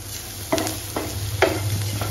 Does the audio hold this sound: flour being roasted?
yes